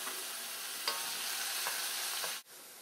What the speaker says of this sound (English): our oil is hot, so we're going to take our tofu